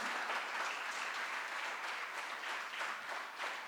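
An audience at a plenary conference session breaks into sustained applause, a full, even wash of clapping heard from across the hall at moderate level with no talk over it.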